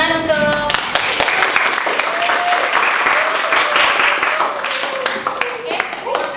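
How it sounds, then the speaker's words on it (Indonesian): A classroom group claps together during a guidance lesson, loud close hand-claps with a brief voice at the start. "Oke, tepuk tangan untuk"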